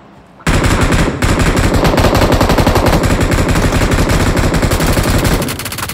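Sustained automatic machine gun fire in PUBG Mobile, a loud close rapid burst of rattling shots lasting about five seconds before cutting off.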